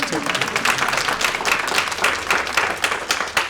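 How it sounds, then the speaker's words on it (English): Audience at the YLS2025 masterclass clapping after a remark on electrification, a brisk, uneven patter of many hands close by, fairly loud and continuous for a few seconds. "you can clap for that"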